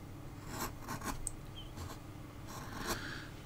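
Scratching tool rasps against clay while carving a dragon sculpture to build up shading, giving soft, quiet rubbing strokes in short bursts with brief pauses between them.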